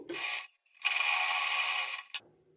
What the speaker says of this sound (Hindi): तो चलो सिलाई लगा लेते हैं।